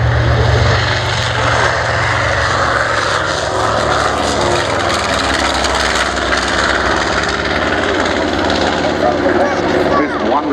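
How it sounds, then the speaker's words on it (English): An XA41 aerobatic propeller plane performs at the Dunsfold Wings and Wheels airshow in 2014, its engine roaring loud and constant, filling the air with dense, unbroken noise. "a demonstration of world-class aerobatics"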